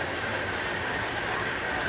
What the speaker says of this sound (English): There's something about hearing the clickety-clack and the horn of a train early in the morning.